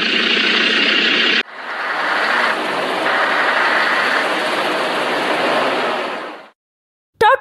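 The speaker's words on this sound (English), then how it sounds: "garbage truck" A garbage truck engine droning loud and steady at close range, with a brief break in the rumble, then a drop to silence and a short final burst.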